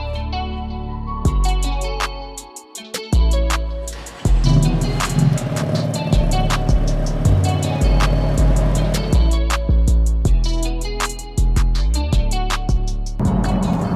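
A BMW M3 in San Marino blue drives on the road, its engine note loud and close, rising and dropping through repeated gear changes over about fourteen seconds.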